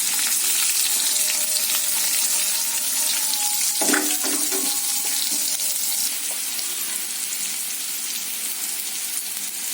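Steady hiss of chopped onions and curry leaves frying in hot oil fills the clip, with a brief burst of louder crackling and clatter partway through, then continuous sizzling.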